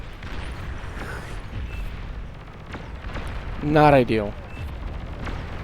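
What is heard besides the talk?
artillery explosions hitting buildings in the video game Beyond All Reason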